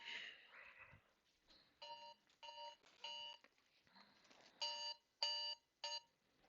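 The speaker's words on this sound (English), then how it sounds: "Got my alarm." An alarm sounds in a quiet room with repeated bursts of bright electronic beeping that come in evenly spaced groups, moderately loud and close, with a few faint rustles between them and no talking.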